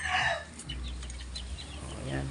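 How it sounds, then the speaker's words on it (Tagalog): Chickens on a Filipino poultry farm cluck and squawk in a brief burst near the microphone, followed by steady low background noise and faint farm sounds. "So update sa ating mga manok."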